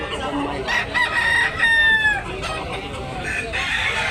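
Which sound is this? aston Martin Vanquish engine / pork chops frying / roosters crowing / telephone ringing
roosters crowing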